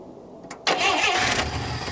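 An old 300,000-mile farm truck engine cranks briefly, then catches and fires up, settling into a loud, rough running roar close by with no talking.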